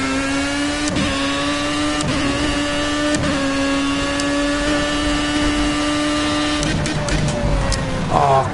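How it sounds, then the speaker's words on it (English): A Formula A race car in Project CARS spins out in second gear, its engine holding a steady high whine while tires chirp and scrub in repeated rhythmic bursts, ending with a rougher flurry of engine and tire noise. "The Formula A's famous second gear spin"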